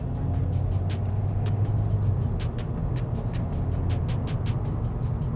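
A Mercedes-Benz E-Class coupe in manual mode with paddle shifters accelerates, its engine a steady, moderate drone heard from inside the cabin under road and tyre noise.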